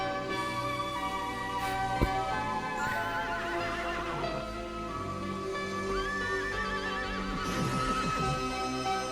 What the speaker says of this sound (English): that scares me to see horses playing like that with horns